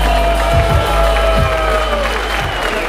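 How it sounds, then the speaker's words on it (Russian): Spectators at a Belarus versus Afghanistan no-rules fighting event applaud after a bout, a crowd wash of clapping and cheering under a steady hum, with low thumps scattered through. "Ваши аплодисменты, дамы и господа."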